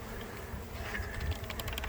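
Honeybees hum faintly at a feral hive during a live removal in Southern California, a low steady buzz with light scattered clicks and rustles, no voices.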